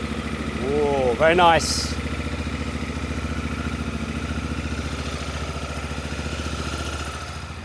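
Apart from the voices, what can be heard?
Honda Africa Twin motorcycle engine starting and idling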